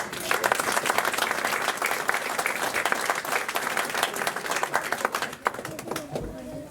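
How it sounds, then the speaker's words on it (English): An audience at a magic club show breaks into applause, a dense, loud burst of clapping that stays steady and then tapers off near the end, with voices faintly underneath. "Give them a round of applause as well."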